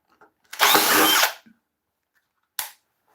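A power drill backs screws out of a woodturning blank: one loud whirring burst of under a second, then a short second burst moments later, with quiet between.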